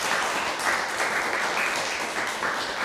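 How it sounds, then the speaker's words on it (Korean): A church congregation applauds together, a dense, steady wash of clapping filling the room for a few seconds at moderate volume. "우리 박수로 축복하겠습니다."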